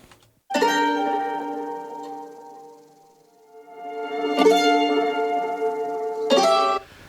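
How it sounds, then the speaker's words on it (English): Strummed electric guitar chords ring out through a warm amp tone, three separate strums that each sustain and slowly decay. "once I put this guitar amp effect on it, it sounded vibey and dreamy"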